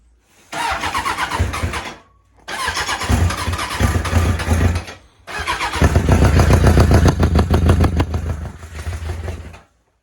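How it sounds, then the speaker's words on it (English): A superbike engine is started by hand with the choke flipped on a cold engine, giving three loud cranking bursts separated by short pauses, the last catching briefly before cutting out, close and alone. "So this is a fast bike. Yeah. You mind if I try to start it?"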